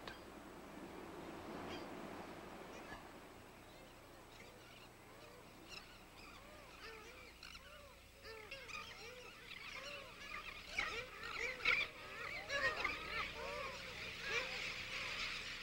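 A dense seabird colony on Rasa Island in the Sea of Cortez calls continuously, many overlapping honking cries heard faint and distant and growing busier and louder over about fifteen seconds.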